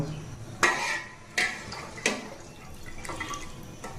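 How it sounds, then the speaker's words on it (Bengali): A spoon stirs soaked polao rice in milk in a pot for payesh, giving four distinct clinks against the metal at roughly even intervals over a soft, wet swishing. "এবার চুলাটা জ্বালিয়ে দিয়ে একটু নেড়ে বলক তুলে নিব।"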